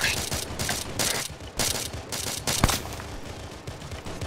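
Rapid 20mm cannon fire in a military shooter game, high-explosive incendiary and armor-piercing rounds cracking off in loud, uneven bursts of repeated shots, with a sharp standout report midway through.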